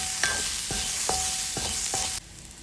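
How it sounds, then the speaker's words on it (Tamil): Sizzling in a pan as onions and dried chillies sauté, with several sharp scraping strokes of a spatula stirring, roughly every half second, close up, then the sizzle drops quieter. "இதை நல்லா வதக்கி விடுங்க."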